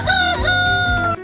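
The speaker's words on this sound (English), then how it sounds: "Roosters say cock-a-doodle-doo." Rooster crowing once loudly and close, a long drawn-out cock-a-doodle-doo with rising and falling pitch, alone with no other sounds.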